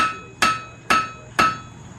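Three evenly spaced hammer blows strike hot metal with sharp ringing clangs, close and loud, each followed by a brief metallic decay.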